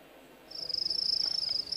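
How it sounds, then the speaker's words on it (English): Crickets chirp in a steady, high-pitched trill that begins about halfway through and continues close and fairly loud to the end, with no talking. "You'll hear those crickets anywhere in the world."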